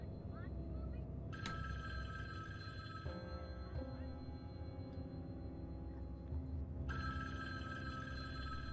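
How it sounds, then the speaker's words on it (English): Telephone ringing in a fan-made Halloween video game, a repeating electronic ring with shifting tones sounding over a dense, droning game soundtrack, fairly close and prominent throughout. "Phone's ringing."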